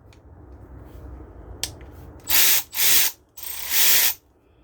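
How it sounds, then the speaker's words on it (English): A used Milwaukee 2567-20 high-speed cordless ratchet runs in four loud, close bursts of whirring motor and ratcheting, each lasting around half a second, after a couple of faint clicks and handling sounds. "the last item that I picked up was another one of these Milwaukee high-speed, the 2567-20"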